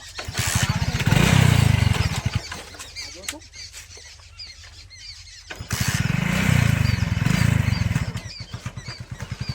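A motorcycle on a farm field revs in two strong bursts with a quieter idle between them. The engine is close and loud, and voices talk over it.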